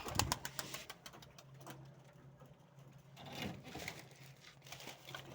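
Soft, distant cooing from pigeons kept in a loft of fancy breeds, faint and intermittent over a quiet background hum.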